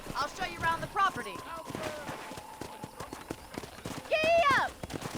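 Rhythmic hoof clip-clops from a horse ride in Red Dead Redemption, heard under speech that surrounds it, with a brief whinny-like sound near the end.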